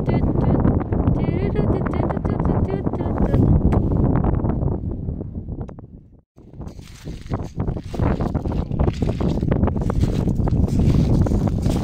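Wind buffets the microphone in a steady low roar on Himmelbjerget, Denmark, broken by one brief lull, while people talk close by.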